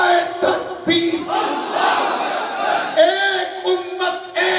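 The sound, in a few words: crowd chanting response to the Takbir slogan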